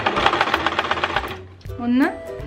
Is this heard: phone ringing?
no